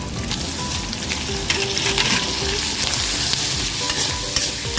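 Long beans and pork belly stir-frying in a wok, a steady dense sizzle with scraping stirs running throughout, close and loud with no talking.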